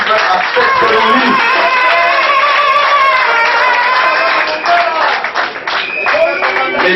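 An audience claps at a first-anniversary ceremony, the applause steady and continuous under a dense, busy hall ambience.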